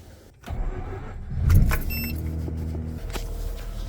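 A Mazda RX-8 engine cranks and catches, then settles into a low running hum while warming up, with a whirring motor and small clicks close by.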